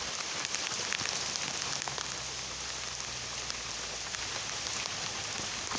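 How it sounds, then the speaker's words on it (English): Torrential rain from a thunderstorm in Woking, UK, pounds down loudly and continuously, a thick close hiss of big drops spattering on surfaces, with no talking. "heavy torrential rain coming down, thundery rain right this minute"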